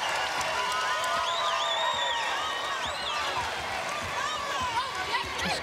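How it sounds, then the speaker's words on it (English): A college basketball crowd at Texas Tech versus TCU roars its approval of a hustle play, with sustained cheering, whistles and squeaking shoes under a courtside voice. "This crowd appreciating the hustle plays."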